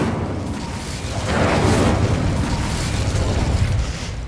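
Incendio fire spell cast in the Hogwarts Legacy video game: a deep, roaring whoosh of flame that swells and sustains for several seconds, loud and close.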